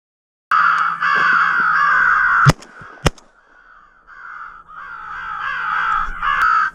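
An electronic crow caller plays repeated loud, harsh caws during a crow hunt in snowy country, a continuous cawing run broken by two sharp gunshot-like cracks, then more caws resuming close by.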